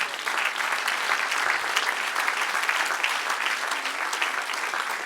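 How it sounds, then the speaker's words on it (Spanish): A church congregation breaks into sustained applause, a dense, steady wash of many hands clapping together that fills the room evenly from start to finish with no voices standing out. "Dale un aplauso al que reina."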